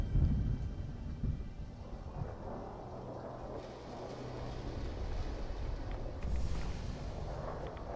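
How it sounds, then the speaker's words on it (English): Thunder from a radiation storm in the video game Fallout 4: a deep, continuous rolling rumble with a rain-like hiss layered over it, swelling slightly again toward the end. "Enough with the radiation storm."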